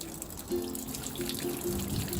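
Water pours into freshly planted avocado tree pots and drains through the soil, a soft continuous trickle with brief gurgling splashes, fairly close and alone.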